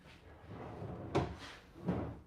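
Built-in wooden dresser drawers in a small off-grid craftsman cabin slide and knock shut, two distinct thumps under a faint room hiss.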